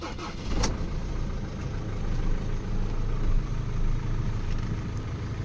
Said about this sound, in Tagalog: pandarin lang muna natin ang makina